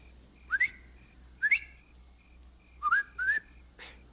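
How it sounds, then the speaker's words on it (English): Someone whistles a short signal: four quick upward-sliding whistled notes in two pairs, fairly close, over faint background noise. "If you see or hear anything wrong, whistle like this."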